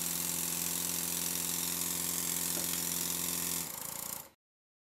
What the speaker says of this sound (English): I turned on the compressed air to the other cylinder and ran the engine a little bit faster